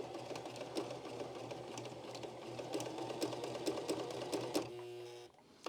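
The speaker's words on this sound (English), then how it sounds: "just going to do a straight stitch to start off with" A domestic sewing machine runs a straight stitch with a steady, rapid mechanical chatter and regular clicks, fairly close and alone, then stops abruptly with a brief whir near the end.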